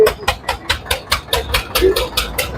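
A 2005-model 5310 diesel tractor engine idles close by at a tractor market, thumping in a quick, regular chug of about four beats a second.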